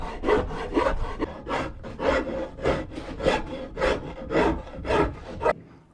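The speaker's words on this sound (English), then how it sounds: "a whole load of sanding later" Rhythmic back-and-forth sanding of wood pieces cut from old floor joists for a hearth fire surround, about a dozen loud, close rasping strokes in steady succession, with no talking.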